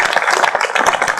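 Dense clapping from a live audience at a Hindi comedy and satire stage show, steady and loud with no voices over it.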